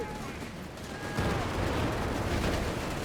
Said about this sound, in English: Rifleman taking massive damage as the M43 Steel Hand Grenade with fragmentation sleeves rip through them.